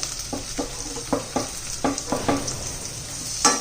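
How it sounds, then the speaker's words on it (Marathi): Tomatoes being sautéed in a pan with onion and slit green chillies for a fresh-pea vegetable pulao: a spoon scrapes and stirs in a steady run of knocks over a soft constant sizzle, with no talking. "टोमॅटो पण छान असे परतून घ्यायचे एकदम"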